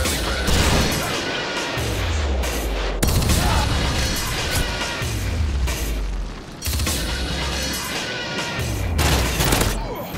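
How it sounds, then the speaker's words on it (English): Predator missile strike in Call of Duty Modern Warfare 3 Team Deathmatch: repeated heavy booming explosions and crashes, loud and dense, with rumbling low impacts and gunfire layered throughout. "Friendly Predator missile inbound."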